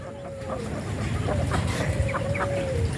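Rhode Island Red hens, about 2.5 months old, clucking softly in a farmer's coop amid a continuous low rumble of farmyard noise, with a few short squawks rising over the background.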